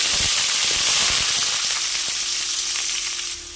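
Medium onion slices cut lengthwise hitting hot oil in a frying pan for soya pepper fry, a loud steady sizzle with crackling pops that eases slightly toward the end.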